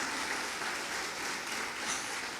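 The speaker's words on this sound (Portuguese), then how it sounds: "Aplauda o pastor dessa igreja." Church congregation applauding their pastor during a Portuguese-language sermon, a continuous wash of clapping at moderate level with no break.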